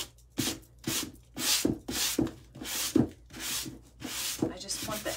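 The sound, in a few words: scuffing the painted edge of recycled jean wall art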